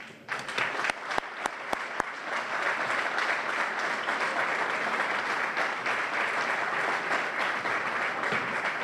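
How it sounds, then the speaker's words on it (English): An audience at an Evacuation Day awards event claps for the young winners, starting with a few sharp individual claps before swelling into steady, even applause that continues at moderate volume throughout. "Again, it gets a round of applause for all the winners."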